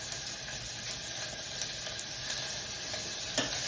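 A cup of onion frying in very hot oil, a steady close hiss of sizzling with faint scraping from stirring, quiet and even throughout.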